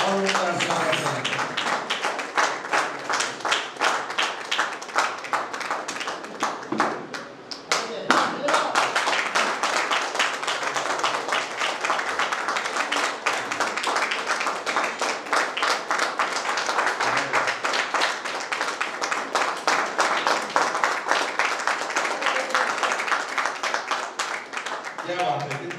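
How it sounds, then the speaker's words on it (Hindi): An audience at a church Christmas celebration claps in loud, sustained rhythmic applause to welcome a speaker, with a short dip partway before the clapping swells again. "रेवरेंड रमेश नाग जी सामने में आएंगे और जोरदार तालियों से उनका स्वागत हो"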